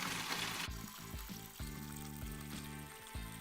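Watering can fitted with a rose sprinkling water over freshly sown grass seed on a lawn, a close, steady trickling patter with faint splashing, heard alone without talk.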